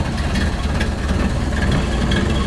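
A 1931 Ford Model A Huckster delivery wagon engine running steadily after a start, a loud, even low rumble with a faint mechanical patter and no voices.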